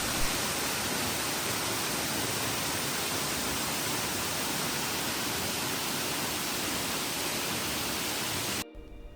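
Steady, dense roar of water falling at the Natural Bridge waterfall in New South Wales, continuous and loud for most of the time before cutting off abruptly near the end.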